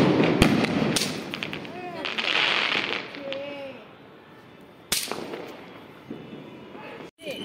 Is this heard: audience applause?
no